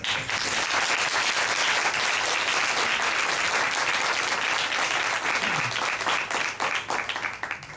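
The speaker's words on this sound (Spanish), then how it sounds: "Démosle primero la bienvenida con un fuerte aplauso" A large audience at a Cuban hip-hop panel discussion in Miami claps loudly and steadily for several seconds, the applause thinning slightly toward the end.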